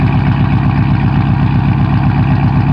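A Dodge Scat Pack V8 with a loud aftermarket exhaust idles steadily nearby, a deep, lumpy rumble with a regular pulsing beat that holds constant throughout with no voices.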